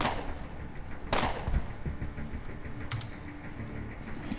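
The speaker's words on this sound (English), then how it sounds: "we're totally shooting him" Gunfire in the video game Underrail, with a sharp shot near the start, another loud blast around one second and a further burst near three seconds, alone with no talk.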